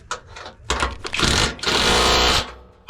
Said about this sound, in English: Then you get your big dirty rattle gun, and you want to keep that nice and tight